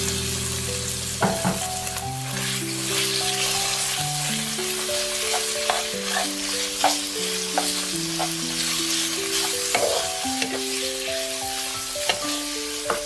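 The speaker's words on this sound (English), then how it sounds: "Add the minced pork and season with a small pinch of salt." Minced pork and garlic sauté in a pan over medium-high heat, a loud continuous sizzle and frying crackle with occasional stirring scrapes, while soft background music plays underneath.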